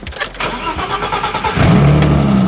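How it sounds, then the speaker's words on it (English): A dead Lexus car engine cranks and fires up after a jump start, settling into a loud, steady low idle after about a second and a half of starter noise. "We're gonna be jump starting my buddy's car because it is dead"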